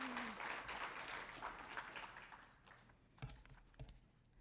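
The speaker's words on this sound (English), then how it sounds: "Let's give her a round of applause." Quiet applause from a graduation hooding audience at Colorado State University, a soft clatter of clapping that thins out and fades to scattered claps.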